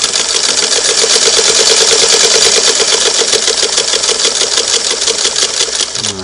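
A Singer Model 99K sewing machine stitches at a long stitch length, a loud, close, rapid mechanical clatter keeping a steady pulse throughout before easing off at the very end.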